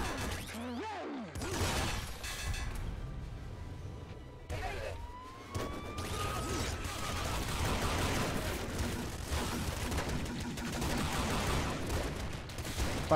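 Rapid synthetic weapon fire from a blob gun in the game Nuclear Throne, a dense run of burbling, popping shots with sweeping electronic tones and a busy game-audio bed throughout.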